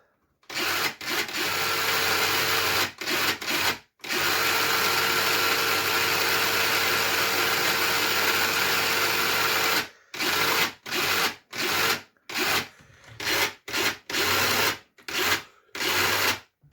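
Electric motor of a modified Traxxas Stampede RC car running, a loud steady high whine held for several seconds, then a rapid series of short on-off bursts as the throttle is pulsed.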